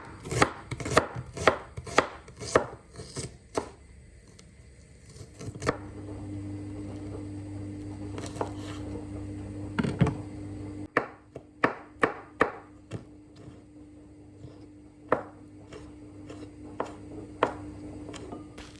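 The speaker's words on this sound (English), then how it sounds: "Then I also cut half of an onion and then like a quarter of a hot chili pepper" A knife chops half an onion and part of a hot chili pepper on a board, in quick rhythmic bursts of sharp close taps, with a low hum underneath partway through.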